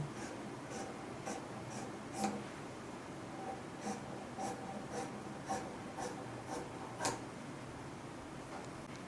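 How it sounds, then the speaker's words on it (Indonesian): Scissors cutting through a paper sewing pattern for short pants: faint, close snips and soft scraping of blades on paper at an uneven pace, quiet with no talk. "Kita terusin gunting ya, sampai semua gunting."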